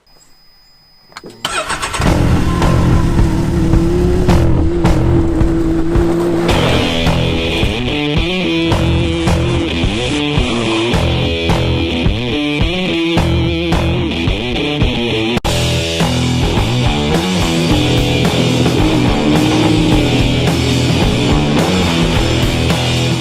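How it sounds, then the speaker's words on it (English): A 2018 Can-Am Maverick X3 DS Turbo R side-by-side turbo engine cranks and fires, then idles and revs in loud, rising and falling bursts. It stays close and continuous for over twenty seconds. "This is the 2018 Can-Am Maverick X3 DS Turbo R"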